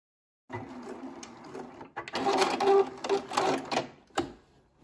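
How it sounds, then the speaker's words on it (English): A Juki HLZ-G220 sewing machine stitching the lining of a tote bag with a quarter inch seam, running in short rapid bursts with brief pauses between them, close and fairly quiet. "then stitch at a quarter inch seam allowance"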